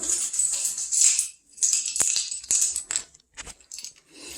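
A bunch of new keys jangles and clinks in short metallic bursts close by, with brief pauses between shakes.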